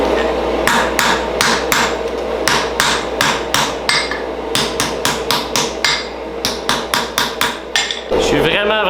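Hammer blows forging a throwing axe, sharp metallic strikes on steel ringing out in quick bursts and runs of evenly spaced hits, loud and close with a faint background hum.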